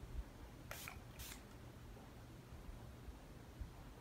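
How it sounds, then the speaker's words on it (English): Makeup setting spray for a dewy finish mists onto a face in two quick hissing bursts, close to the microphone and loud against a quiet background. "Let me just spray this down real quick."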